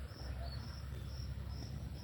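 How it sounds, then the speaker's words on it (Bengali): Crickets chirping steadily at a quiet family home in Purbachal, Dhaka, with repeated high, thin trills pulsing in an even rhythm over a low background hum, no voices present. "ওই ঝিঝি পোকার ডাক শোনা যাচ্ছে।"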